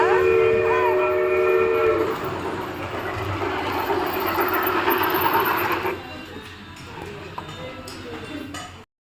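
A small toy train chugs along with a steady mechanical rattle and high whistle-like tones, amid restaurant chatter; the rumble drops off near the end.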